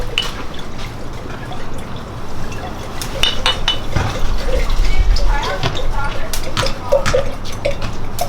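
Worcestershire sauce pours into a jar in a home kitchen while making jambalaya, a trickling, dripping liquid sound with light clinks of glass, heard close under people talking nearby.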